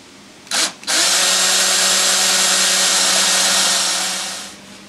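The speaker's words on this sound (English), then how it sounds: "So now let's screw these together and give it a little bit of light sanding." A power drill driving screws whirs in a short burst, pauses, then runs steadily for several seconds before winding down, loud and close.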